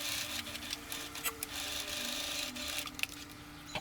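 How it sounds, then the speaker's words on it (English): A sewing machine stitches dress seams with a steady, close mechanical whir and rapid needle chatter, running continuously without pause. "I sew respecting 1 centimeter of seam allowance,"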